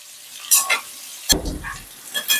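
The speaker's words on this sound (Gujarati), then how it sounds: "તો બધા મસાલાને આ રીતે સરસ રીતે મિક્સ કરી લઈશું" Potatoes coated in masala fry for dum aloo while a spoon stirs them, giving a few quick scrapes, one heavier thump against the pan and a crackling sizzle underneath, heard up close.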